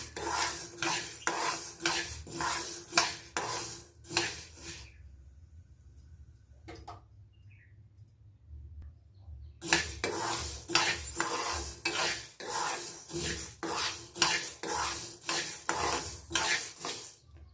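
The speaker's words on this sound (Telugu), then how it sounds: "మధ్య మధ్యలో కలుపుతూ ఉండాలి, లేకపోతే కలర్ చేంజ్ అయ్యి మాడిపోతాయి" Powder ingredients dry-roasting in a pan and stirred with a metal spoon: rhythmic scraping strokes against the pan, a long quiet pause midway, then brisk stirring resumes.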